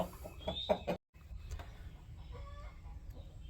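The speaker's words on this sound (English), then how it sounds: "There's 9 roosters total." Roosters on a homestead flock of nine give a burst of loud, close clucking and squawking for about a second, then it cuts out and only a low, steady background hum remains.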